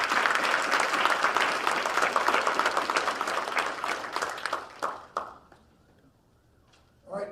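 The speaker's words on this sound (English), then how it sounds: "So please give him a round of applause." An audience at a high school academic awards ceremony applauds in a dense, sustained wash of clapping that thins out and fades near the end, with a brief sound returning just before the close.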